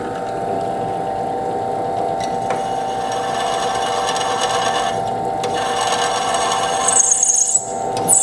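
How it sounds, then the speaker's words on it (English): A drill press bores a blind hole into a small plug, sized for a thermistor, giving a steady mechanical whir with a constant tone and grinding, scraping texture throughout, ending with a brief sharper squeal. "I'm going to drill a blind hole in this plug."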